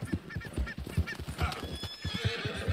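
A horse in Red Dead Redemption 2 whinnies repeatedly over a steady, rhythmic clip-clop of galloping hooves, both moderately loud and close, with faint game sounds behind.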